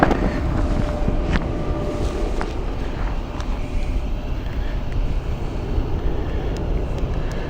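Aircraft engines roar at Gatwick Airport as a broad, steady rumble heard from a distance, partly masked by wind buffeting the microphone, with no clear speech.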